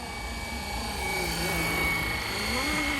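A Flywing RC helicopter flies nearby with a steady high-pitched rotor whine and motor hum that shifts slightly in pitch as it slows, continuous and fairly loud.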